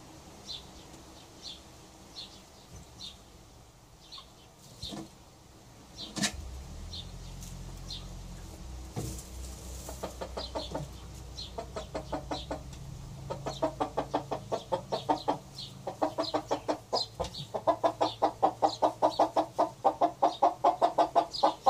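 Hens cluck and murmur inside a nest box while one lays, soft at first, then a steady run of rhythmic clucks growing louder toward the end.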